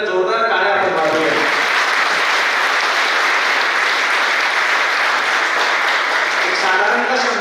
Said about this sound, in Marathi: एकदा जोरदार टाळ्या आपण वाजवूया.